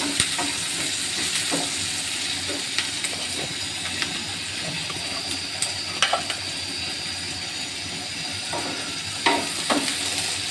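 Eggs fry in a pan and are stirred and broken up into a scramble. A continuous hissing sizzle carries sharp intermittent spatula scrapes and clicks against the pan.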